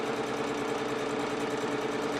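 A steady mechanical whir of a sewing machine running continuously, a fairly loud, even hum with a fast repetitive stitching texture and no voices.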